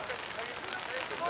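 Steady rain pours during a school old-boys' rugby match, a continuous broadband hiss and patter at an even level with no distinct voices.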